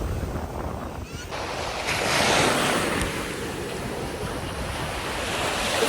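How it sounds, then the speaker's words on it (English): Ocean surf washes onto a cold beach in Miami, a continuous broad wash of water that swells midway, mixed with gusty wind buffeting the microphone. "I don't know if y'all can hear me, but the water flowing"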